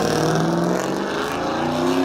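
An 85 Chevy C10 truck with its bed torn off drives away, its engine roaring loudly and steadily close by with a rising pitch, no voices over it.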